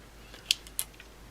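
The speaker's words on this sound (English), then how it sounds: "you can also clean up these ragged edges with a pair of scissors" Scissors make two quick, close, crisp snips while trimming ragged plastic edges from a steampunk dragon charm.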